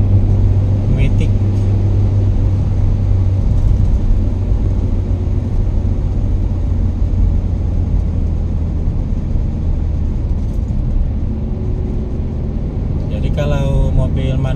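A manual car is driven along a road between Binjai and Medan, giving a steady loud engine and road rumble from inside the cabin, with a voice briefly heard near the end.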